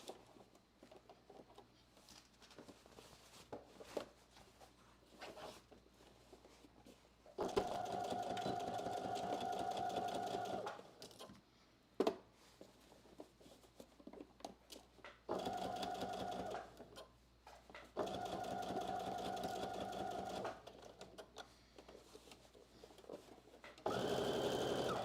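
A sewing machine stitches a 5/8-inch seam allowance along a muslin inseam in several bursts of steady whirring, each a few seconds long, separated by quieter pauses with faint handling.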